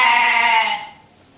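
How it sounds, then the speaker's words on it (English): A single goat lets out a loud, drawn-out, deep-voiced bleat close by, holding steady before fading away. "One of the goats. Yeah, deep voice."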